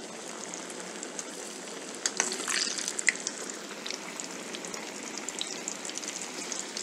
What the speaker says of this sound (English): Now the fish has been crumbed, the oil is hot. We'll put it in the hot oil.